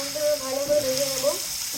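Paneer fries lightly in hot oil, giving a close, steady sizzle that carries evenly through the short moment with no talk.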